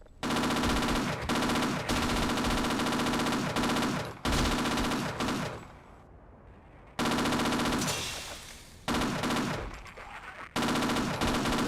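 Machine gun fire in the video game Half-Life, loud sustained bursts of rapid automatic shots broken by short pauses and a quieter stretch in the middle, no speech.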